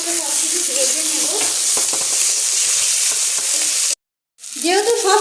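Green chillies and tomatoes frying together in a pan, a loud continuous sizzle with spatula scrapes and a brief clatter, cut by a short silence before sizzling resumes.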